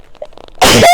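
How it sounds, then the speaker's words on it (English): A single sharp sneeze bursts out loud and close after a brief moment of quiet breathing. "I'm gonna sneeze."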